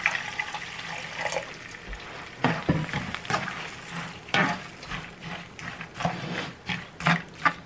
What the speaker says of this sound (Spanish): Ponerles un poco de agua, como unas 2 tazas.